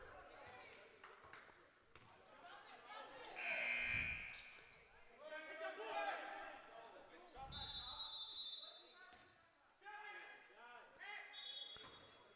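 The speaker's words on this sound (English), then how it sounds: "I believe an inadvertent buzzer at the scorer's table." An inadvertent buzzer sounds at the scorer's table during a Lehigh Valley Flight basketball game, brief bright electronic blasts over crowd noise, shoe squeaks and ball bounces, with play-by-play commentators talking throughout.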